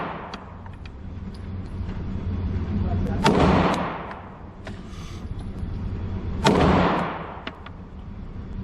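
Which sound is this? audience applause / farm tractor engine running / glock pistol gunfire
glock pistol gunfire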